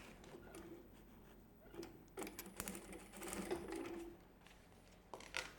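A sewing machine stitches a strap onto a small children's mini backpack. Quiet, intermittent bursts of whirring stitching are broken by short pauses and light handling clicks.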